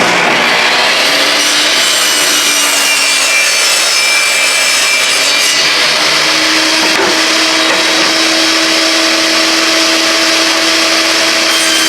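Wood being hand-sawn outdoors, a steady continuous rasping of the blade through the board with a brief knock partway, close and fairly loud with no talking.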